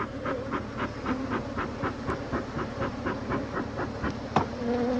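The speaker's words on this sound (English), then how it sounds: "So I'm gonna smoke these bees down." Steady, close buzzing of many honey bees being smoked during a honey harvest, with a faint rhythmic puffing of the smoker underneath and a brief click near the end, no voices.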